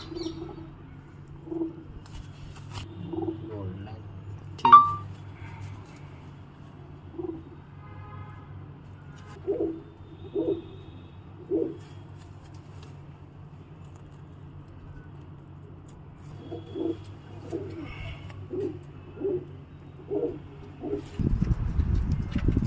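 Racing pigeons coo in short, soft bursts, several scattered calls over a low steady hum, with a sharper note early on and a burst of rumbling noise at the very end.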